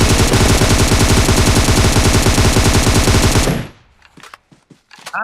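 Loud, sustained automatic gunfire in PUBG Mobile, a fast, steady stream of shots that runs unbroken for several seconds, then cuts off into scattered quieter clicks and sounds.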